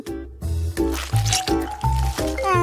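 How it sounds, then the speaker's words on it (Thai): Cake pieces dunked into a chocolate fondue fountain make repeated soft, wet squishing and dripping sounds. They come in a steady rhythm of about four dips, close and fairly loud, and no one talks over them. "จะลองจุ่มในน้ำพุอีกรอบนึง"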